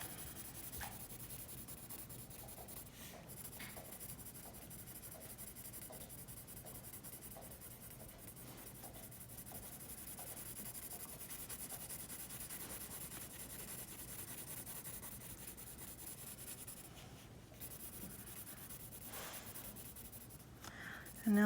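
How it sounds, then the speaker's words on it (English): A pencil shades back and forth on paper while coloring a panda drawing, a faint, close, continuous scratching with rhythmic strokes that carries on for a long stretch. "With your pencil, go back and forth."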